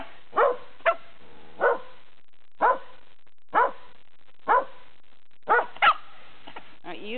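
A dog barks repeatedly at a steady pace, sharp single barks spaced about a second apart, close and clear with quiet gaps between.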